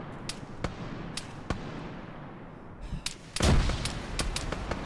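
A frag grenade goes off in a military video game: sharp scattered gunfire cracks lead up to a loud, close blast with a rumbling tail, followed by more shots.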